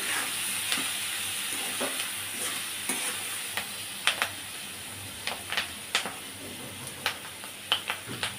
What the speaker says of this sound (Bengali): অ্যাড করে দিচ্ছি আমি জিরা ধনিয়ার গুঁড়ো পরিমাণ মতো। দিয়ে এবার মশলাটা ভালো করে কষিয়ে নিচ্ছি।